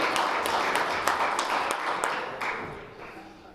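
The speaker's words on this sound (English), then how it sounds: "Give him another round of applause if you don't mind." Audience applause at a golf-themed Sunday welcome dinner, a steady wash of clapping from a roomful of diners that holds loud for about two seconds and then slowly thins out.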